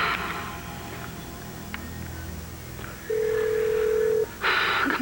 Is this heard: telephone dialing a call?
yes